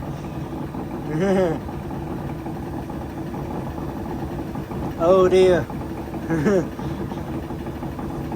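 A Whirlpool SCW1112WH washing machine on Quick Wash 30 drones with a steady low mechanical hum and knocking, with a few brief bursts of speech breaking in over it.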